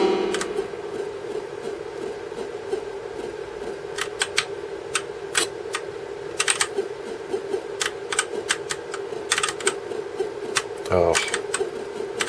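Keys on a keyboard clack in irregular sharp clicks, used to play an arcade game on a MiSTer system, over a steady electronic hum with game sounds and a voice talking.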